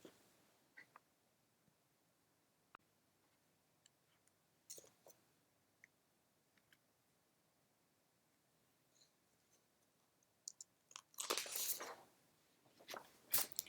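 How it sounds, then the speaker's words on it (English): Papers shuffled at a lectern during an astronomy lecture: a few faint, scattered rustles and ticks, then a louder burst of handling near the end, with no one speaking. "Hear me shuffling papers?"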